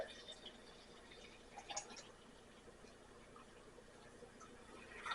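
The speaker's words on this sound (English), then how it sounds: "let's pour our coffee" Coffee pours into a cup with a faint, steady trickle of liquid filling the vessel, a few soft drips and splashes standing out near the start and end.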